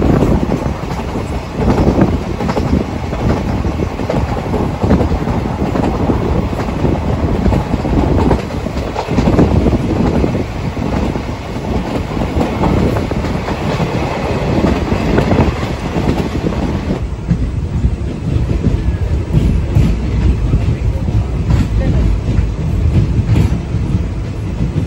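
A passenger train running at night from Rameswaram toward Kanyakumari rumbles loudly and continuously, with clattering wheels and wind rushing past, the roar easing slightly toward the end.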